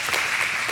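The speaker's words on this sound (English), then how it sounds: "some of you are clapping for that" Scattered applause from a live audience at a sermon or talk, a brief soft patter of clapping with no voices over it.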